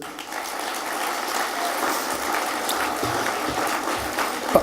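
Students at a 2017 graduation ceremony in Toulouse clap for the speakers, producing a steady, dense wash of applause that holds at an even level throughout, with a sharp clap near the end and no talking.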